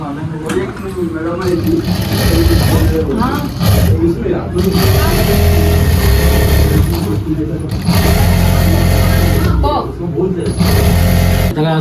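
Sewing machines whir loudly and continuously in a busy tailoring workshop, pausing briefly now and then, with people's voices mixed in with the mechanical drone.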